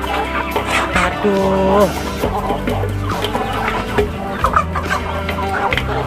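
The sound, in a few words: chickens and roosters clucking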